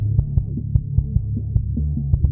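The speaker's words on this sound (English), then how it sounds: "Distortion, right? Saturation." Low end driven through a saturation distortion plugin, producing a dense, steady bass hum with rhythmic throbbing pulses and added harmonics, loud and continuous with no voices.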